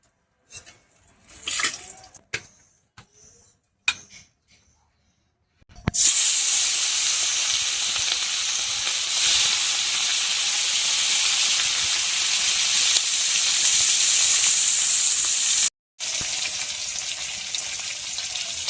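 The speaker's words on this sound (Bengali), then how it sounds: "তো মাছ ভাজা হয়ে গেছে" Fish frying in a pan for a home-cooked meal, a loud continuous sizzle and hiss that starts abruptly after a few seconds of quieter clatter, runs steadily with a brief cut-out near the end.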